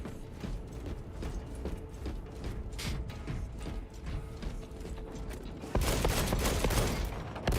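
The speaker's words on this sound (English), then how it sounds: "Reloading magazine." Magazine reload in a Warhammer-style sci-fi video game, mechanical clicks and ratcheting metal clatter over dense game noise and background battle, with a louder burst of action near the end.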